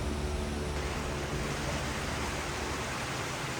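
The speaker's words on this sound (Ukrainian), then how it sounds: "Ви чуєте голос цієї річки, як вона шумить?" A constant broadband rush of flowing water from the underground Klov river, a loud stream echoing in an enclosed space, steady throughout with no voices.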